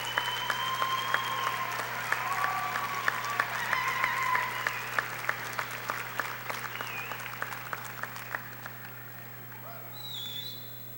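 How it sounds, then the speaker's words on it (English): Sustained applause from a commencement audience at a university graduation ceremony, steady dense clapping that gradually thins and fades toward the end. "give them a great big round of applause expressing your gratitude for the assistance that they have provided"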